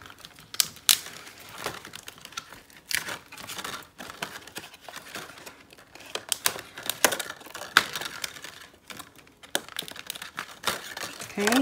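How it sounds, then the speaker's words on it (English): Plastic craft storage bag being folded along its scored fold lines, a run of close, crisp crinkles and crackles in irregular bursts, with quiet talk in the background. "So you're just gonna fold this plastic along"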